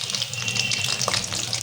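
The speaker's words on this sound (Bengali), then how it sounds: "এখন ভাজা হচ্ছে পেঁয়াজু" Peyaju onion fritters deep-fry in hot oil for a home-cooked iftar, a close, continuous bubbling sizzle with no voices.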